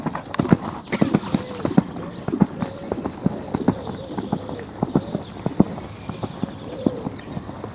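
A horse canters during a show jumping lesson, its hooves striking ground in a steady, rhythmic clip-clop that stays fairly close, with a faint voice in the background at times.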